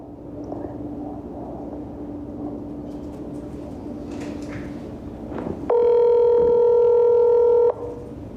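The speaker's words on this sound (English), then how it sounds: "So here goes the phone call." A telephone call is placed over a low steady hum, with a few faint clicks as the number is entered, followed by a loud, continuous ringback tone lasting about two seconds before it cuts off.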